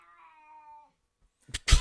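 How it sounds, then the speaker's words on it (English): A cat gives a drawn-out meow up close, followed after a short pause by a couple of sharp, louder bursts of noise. "That's my cat."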